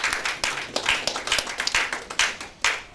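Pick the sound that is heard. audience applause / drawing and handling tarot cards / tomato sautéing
audience applause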